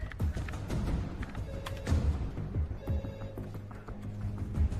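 A telephone bell rings in short repeated bursts amid a busy ambulance scene in a French action film, partly masked by thuds, movement and background clatter.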